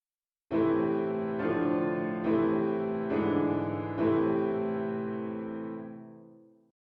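A short passage in a minor key: several sustained chords ring out one after another, then the last one fades away, with no voices.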